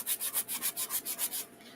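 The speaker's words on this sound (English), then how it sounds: "Now I still have to sand the upper half." Wood being sanded by hand, about ten even rhythmic rasping strokes close by, quick back-and-forth scrubbing that stops near the end, with no talk.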